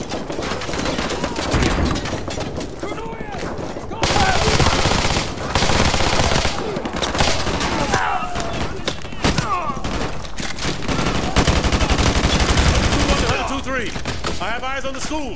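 Heavy automatic gunfire and rapid bursts from several weapons fill a school battle in Call of Duty: Modern Warfare 2 Remastered, dense and loud throughout with thumps and short breaks, while radio-style voices shout over the shooting.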